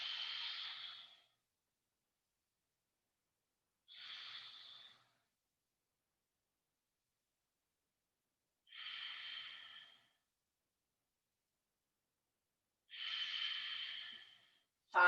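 Slow, deep breaths during a yoga flow, four long drawn-out exhalations spaced by several seconds of silence, close to the microphone with no talking.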